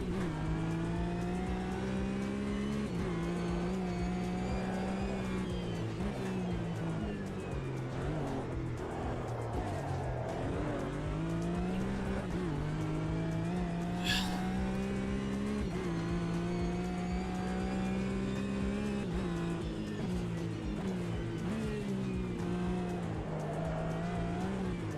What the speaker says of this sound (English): This car's nice and easy to drive.